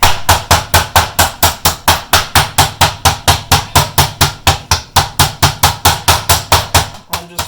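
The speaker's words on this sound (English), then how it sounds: "I'm just flattening the pork chops here." Pork chops for tonkatsu are pounded flat with rapid, steady, evenly spaced heavy thuds, about four per second, loud and close, continuing for several seconds with no talking.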